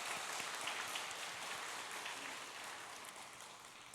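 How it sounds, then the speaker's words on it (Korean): A church congregation applauds after a choir's hymn, a dense, steady wash of clapping from many hands that fades slightly toward the end, with no talk over it. "우리 성도님들께서 이미 박수를 한번 쳤지만은 한 번 더 쳐주시면"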